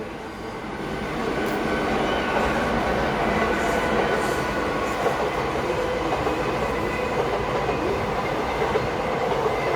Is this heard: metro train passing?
yes